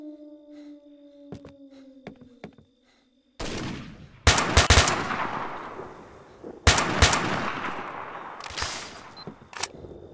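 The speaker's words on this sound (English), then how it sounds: "Being shot at from over there now." Gunfire in the video game STALKER: Shadow of Chernobyl: sharp, loud shots and rapid bursts crack out after a quieter stretch of scattered single reports, with each volley trailing off in echoing noise.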